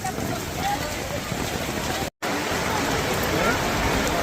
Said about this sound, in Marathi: अतिशय खतरनाक पाऊस पडत आहे